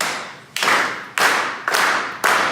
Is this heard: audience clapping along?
yes